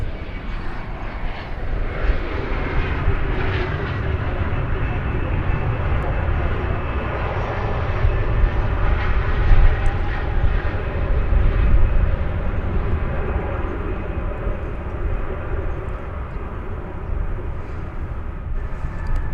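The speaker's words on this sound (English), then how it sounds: "It's 777-300ER." A Boeing 777-300ER arriving at DFW Airport gives off a sustained jet roar that builds and holds across the whole stretch. It is heard from a distance, steady and broad, with no one speaking over it.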